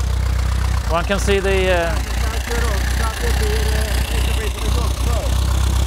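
A 1920 Henderson 1300cc four-cylinder motorcycle engine runs at a steady low idle throughout, nearby, with people talking over it.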